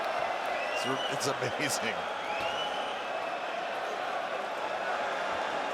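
The Dublin crowd at an MMA fight roars for Yoel Romero, a dense, sustained cheer filling the arena beneath a commentator's voice.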